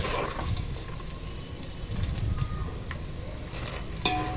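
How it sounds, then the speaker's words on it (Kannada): Paper poha (flattened rice) fries in hot oil until golden, giving a soft, steady crackling sizzle with a few faint clinks and no voices. "ಇದು ಸ್ವಲ್ಪ ಗೋಲ್ಡನ್ ಕಲರ್ ಬರೋವರೆಗೂ ಚೆನ್ನಾಗಿ ಕರಿಬೇಕು ಎಣ್ಣೆಯಲ್ಲಿ."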